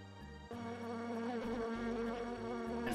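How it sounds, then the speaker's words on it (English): Bees buzzing in the video game Alundra 2, a steady droning insect hum with warbling harmonics and faint pulsing, close and loud, rising slightly over a few seconds with no talking. "So I gotta be smart enough not to die to the bees."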